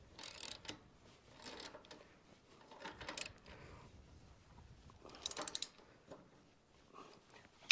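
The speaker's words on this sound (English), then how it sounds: "Then put the nut back on, do it up" A nut being tightened on the front of a harvester, with faint, intermittent metallic ratcheting clicks in short bursts and a sharp tap at the end, quiet and close.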